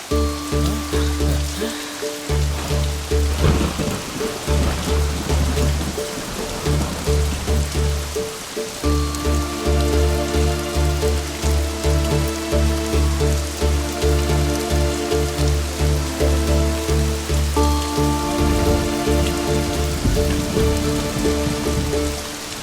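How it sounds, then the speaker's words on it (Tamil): Steady rain falling in daylight, a dense, continuous patter on surfaces that stays loud and close throughout with no voices. "என்ன வெயில்ல மழை பெய்யுது, அதுன்னு அதிசயமா?"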